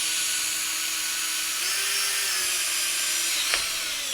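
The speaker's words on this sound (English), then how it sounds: "I find as close as I can to the center of the pipe this way, and I am going to" Power drill boring a hole through the top of a PVC pipe, a steady high-pitched whine held alone for about four seconds with a brief pitch rise midway and a sharp tick near the end.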